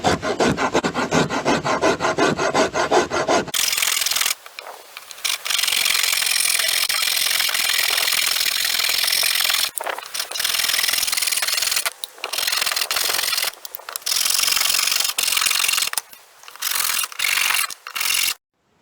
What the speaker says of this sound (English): So after about 5 or 6 minutes with the rasp, you should have something starting to look like a sword handle.